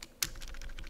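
Brief burst of computer keyboard typing, a sharp click followed by a quick run of soft, fairly quiet keystrokes.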